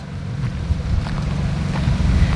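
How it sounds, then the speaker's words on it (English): Strong wind buffeting the microphone in low, rumbling gusts outdoors by rabbit enclosures, steady and close throughout with no voices. "It's pretty windy today."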